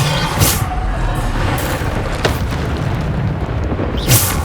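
Booming spell blasts from the Bombarda charm in Hogwarts Legacy, loud and near, with a few sharp bursts standing out over steady rumbling game noise and no talk.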